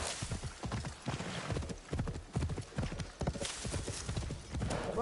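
Horse hooves galloping in the video game Assassin's Creed Shadows, a fast, rhythmic clatter of hoofbeats close up, with a brief whinny near the end.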